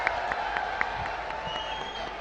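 An audience at an annual felicitation program applauds steadily, a dense continuous wash of clapping with faint hoots and whistles rising over it, with no pauses throughout.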